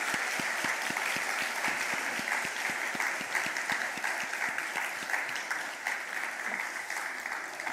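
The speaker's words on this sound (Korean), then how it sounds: "박수하겠습니다." A church congregation applauds during a Sunday morning service, a dense steady clapping that fills the room and carries on for several seconds as a single loud burst.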